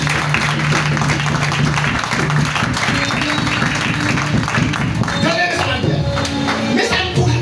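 Applause fills a church during worship, a steady, dense clatter of many hands sustained from start to finish, with crowd murmur and voices mixed in.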